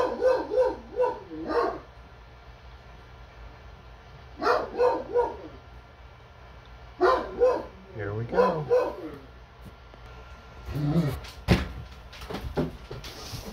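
A dog barks in several bursts of sharp, repeated woofs spread across the span, fairly close, with quiet pauses between and a brief rustling knock near the end.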